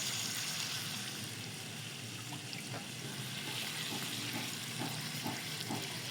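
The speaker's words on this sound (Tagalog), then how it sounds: "lagyan po natin ng konting tubig lang" Water goes into a cooking pot of lagat hito, a Kapampangan catfish dish, a continuous splashing, bubbling wash with small clinks, close and fairly loud, with no talking.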